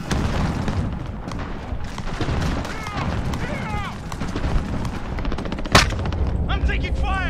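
Gunfire in the Call of Duty Warzone video game, dense bursts of shots and booms running throughout with one sharp loud report near the end, mixed with voices and game sounds.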